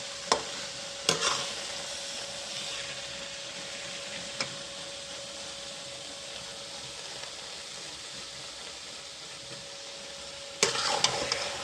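Carrot halwa is stirred in a pan, a soft continuous sizzle with a faint steady hum running underneath, broken by a few sharp scraping clicks of the spoon near the start and a louder cluster of scrapes at the end.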